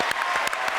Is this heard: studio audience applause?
yes